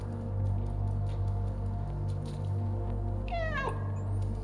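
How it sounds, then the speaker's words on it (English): A cat meows once in the video game Stray, a rising and falling call that stands out clearly over a steady city ambience and background music. "Such a cute little kitty."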